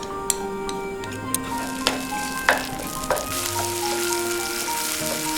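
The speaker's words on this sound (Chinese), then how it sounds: "在热油锅中加入剁碎的豆酱，" Chopped bean paste stir-fries in a wok of hot oil while making mapo Boston lobster. A strong, continuous sizzle runs under a handful of sharp spatula ticks and scrapes, with no talking.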